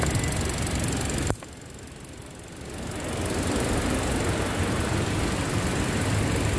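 Toyota Innova Reborn engine running with a steady broadband roar, briefly dipping after a sharp click about a second in, then rising again as the throttle is opened.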